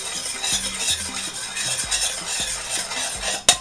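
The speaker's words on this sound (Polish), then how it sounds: "Musimy to wymieszać, tak żeby się te grudki mleka rozpuściły." A utensil stirs cream in a pan in a steady repeated rhythm, scraping and clinking against the metal over a faint sizzle, ending with a sharp knock; no voices.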